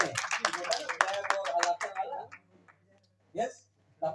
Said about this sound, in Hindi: प्रमोद सर के लिए ताली, जोरदार ताली बजा दीजिए